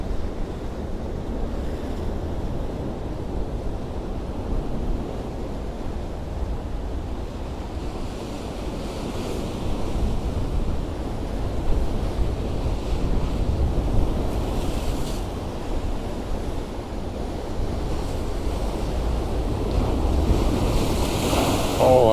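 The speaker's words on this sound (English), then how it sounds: "I see really big waves out there." Big waves roll in and crash on a rocky shore at Can Pastilla, Mallorca, a steady deep surf roar with swelling surges, mixed with wind buffeting the microphone, no voices.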